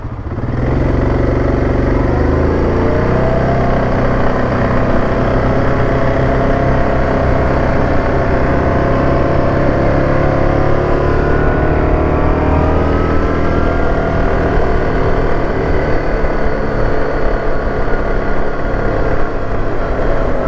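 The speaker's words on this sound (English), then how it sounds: "Traffic." Engine drone from a quad bike riding through the streets of Sussex town, loud and continuous, with the motor revving up and holding a steady pitch as passing traffic blends into the rumble.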